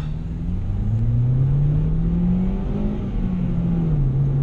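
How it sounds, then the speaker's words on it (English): A car accelerating on a test drive, its engine rising in pitch through a gear change, loud and close, with a brief rough grind going into third gear. "third gear grinded right there"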